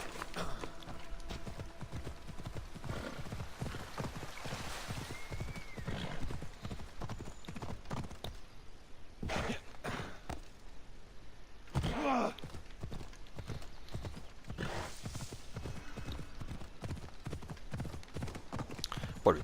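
Rapid, rhythmic horse hooves clop steadily in Assassin's Creed Odyssey, galloping with brief pauses, accompanied by a horse whinny and game-like background sounds.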